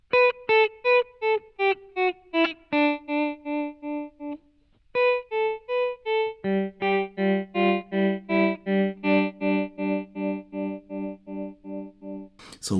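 An electric guitar plays through a MayFly Terrain tremolo pedal set to a faster speed, giving sustained notes a quick, even pulsing chop across a short melodic phrase. The instrument plays alone, with no voice over it.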